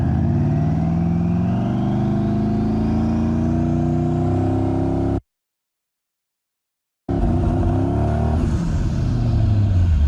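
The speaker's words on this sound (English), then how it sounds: "I was gonna do a full load Transbrake launch in 4-wheel drive, so I did that" A twin turbo four-wheel-drive car makes a full-load transbrake launch, its engine roaring and climbing through the revs, cut briefly by a gap before the loud acceleration resumes.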